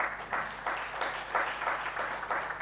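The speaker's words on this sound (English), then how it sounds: "Let us give her a big applause." Attendees at an education conference in Indonesia clap for a presenter asked to stand, a modest, somewhat distant round of applause with soft, uneven swells.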